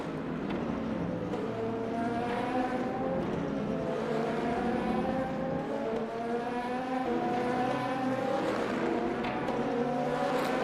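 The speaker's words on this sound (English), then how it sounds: "let's just watch these LMP2s go around the track here" LMP2 prototype race cars lap the Spa circuit in a racing video game, a continuous loud engine drone with rising and falling gear pitches as several cars pass, steady throughout with no talk.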